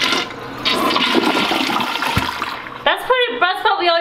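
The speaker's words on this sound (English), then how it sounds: "Ready to give her one test flush?" A newly installed residential toilet gives a test flush: a loud, steady rush of swirling water for about three seconds, then voices talking over the tail of the drain.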